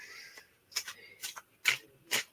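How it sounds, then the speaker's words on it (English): A deck of tarot cards being shuffled by hand, several short crisp riffling bursts in an uneven rhythm, close and alone without talk. "let me do one more shuffle"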